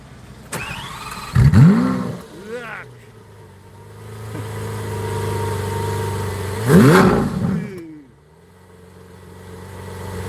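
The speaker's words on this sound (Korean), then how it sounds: "자, 시동을 한번 걸어보도록 하겠습니다." A Lamborghini Aventador S being started, a sharp rising whine and engine burst near 1.5 s, a second rev flare around 7 s, with a steady idle rumble between and people talking close by.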